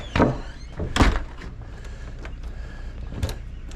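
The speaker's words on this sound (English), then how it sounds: "Get this door closed here" A door being pushed shut in a workshop during remodeling gives a couple of solid thunks with clattering rattles between them, against a low background murmur and followed by lighter knocks, all fairly close.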